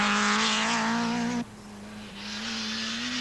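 A 1985 Nissan 240 RS rally car blasts along a special stage on the Welsh Rally, its engine howling loud and close, cutting out abruptly for a moment, then climbing back to a strong, steady roar.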